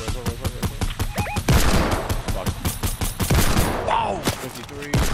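Rapid, repeated gunshots in the Fortnite video game, a loud close volley of rhythmic bursts running throughout with brief pauses, mixed with other game sounds.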